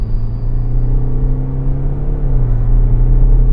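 Car accelerating hard from 0 to 100 km/h, a loud, close engine drone with a low rumbling tone that holds steady and rises slightly in pitch, with no voices.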